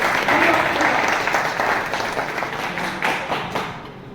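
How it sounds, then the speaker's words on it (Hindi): A crowd at a network seminar applauds to welcome senior guests, a loud sustained roar of clapping that gradually thins and fades toward the end. "आपकी तालियों के बीच अपने जो सीनियर आए हुए हैं उनसे स्वागत करें"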